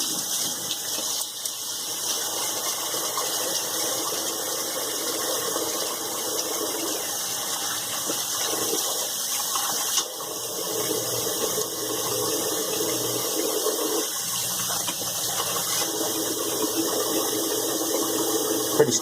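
Tap water runs steadily into a sink while a sheet mask residue is rinsed off the face, a continuous hissing gush with small shifts as hands move through the stream, no talking.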